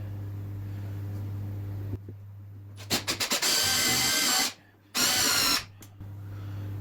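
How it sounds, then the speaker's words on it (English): A power drill drives tek screws through wood strips on a rat rod project. A few quick trigger pulses lead into two sustained, close whirring runs, with a low steady hum in the background. "we're just going to use some tech screws to screw this in"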